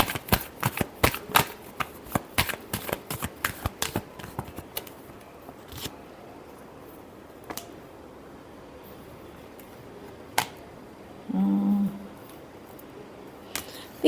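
Tarot cards are shuffled in a quick run of crisp riffling clicks near the start, then a few isolated slaps and taps follow across a quieter stretch, with a short voice near the end.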